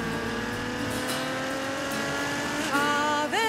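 A red Ferrari FF sports car with 660 horsepower driven in the hills near Maranello and Modena, its engine humming steadily up close, then revving up sharply with rising pitch near the end.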